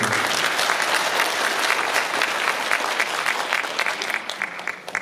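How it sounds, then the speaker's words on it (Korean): An audience at an outdoor civic festival claps steadily for introduced guests, a thick wash of applause that holds loud and then begins to thin toward the end. "박수 한번 주세요."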